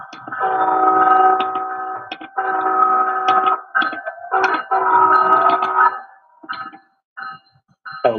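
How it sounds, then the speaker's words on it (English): Horn blasts from a Bachmann Siemens model locomotive fitted with TCS WOW Sound, a few long loud honks followed by shorter clipped toots, close and clear, with no talking over them. "show off the TCS Wow Sound features lights and sound that you've come to expect from our Siemens"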